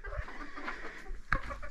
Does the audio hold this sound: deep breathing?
no